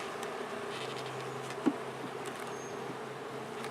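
Swarm of agitated honeybees buzzing steadily during a hive inspection, a dense continuous drone close by, with a small knock partway through.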